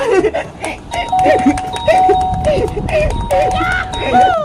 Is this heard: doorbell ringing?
yes